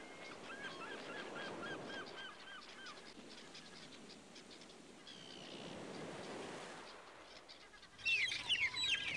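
Young seagulls in a cartoon seaside game calling to be fed, a rapid series of honking, squawking cries that rise louder and shriller at the end over a hissing background.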